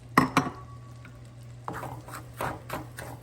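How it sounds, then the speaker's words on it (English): Breadcrumbs stirred into melted butter in a pan produce a couple of sharp utensil clinks, then soft scraping and light tapping over a steady low hum. "The butter has melted, so let's add the breadcrumbs"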